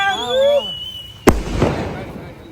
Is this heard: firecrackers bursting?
yes